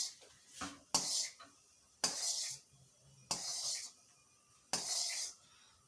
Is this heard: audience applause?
no